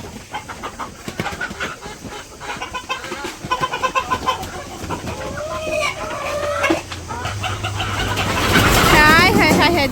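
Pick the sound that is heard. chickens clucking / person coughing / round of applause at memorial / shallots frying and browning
chickens clucking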